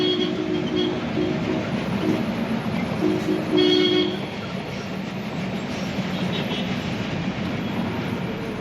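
A metro train rumbles past near a station in Mumbai with a steady broad roar and a brief horn-like tone near the middle, then continues as a lower running rumble.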